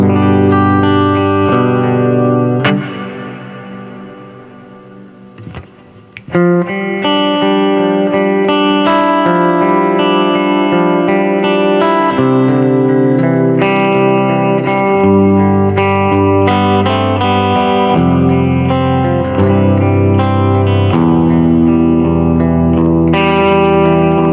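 Electric guitar played through a pedalboard into a Plexi-style amp, set to a long reverb preset; sustained chords and notes ring out with lush, washing tails, slight distortion and chorus shimmer, played continuously with a brief pause near the middle.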